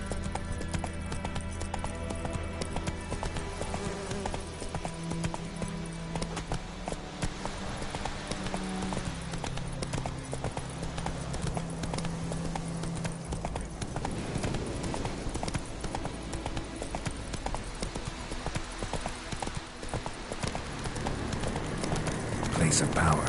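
Roach the horse gallops in The Witcher 3, a steady rapid clip-clop of hooves running throughout, with game music and a voice speaking over it.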